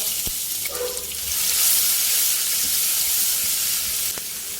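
Pounded chili and garlic stir-fried in fresh oil in a pan for Thai drunken noodles with pork, giving a close, steady loud sizzle with a few faint clinks of the spatula.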